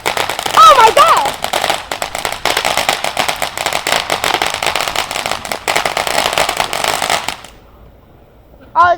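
Fourth of July fireworks go off close by: a loud, dense barrage of crackling pops and bangs rolls on for about seven seconds, stops abruptly, then one more burst erupts at the end.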